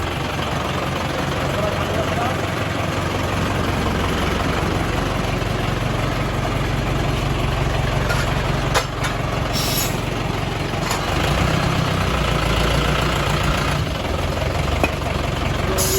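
A new air-brake truck with a Bolero engine idles with a constant low rumble while someone talks over it; a few faint clicks and rattles come through.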